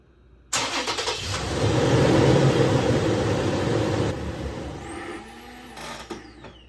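Toyota 4Runner fifth-generation engine cranks and catches abruptly, surges loud, then settles into a steady idle that gradually quietens, heard up close with no talking.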